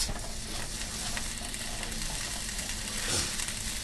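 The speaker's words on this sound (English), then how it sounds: "You can hear it starting to sizzle in here." Butter melting for toffee caramel sauce sizzles and crackles steadily in a hot pan, a continuous close frying hiss with faint stirring scrapes.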